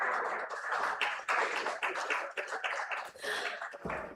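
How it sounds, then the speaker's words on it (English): Conference audience applauding at a technology conclave, a fairly quiet patter of individual claps that swells and thins unevenly over a few seconds. "A big round of applause for Mr. Agarwal"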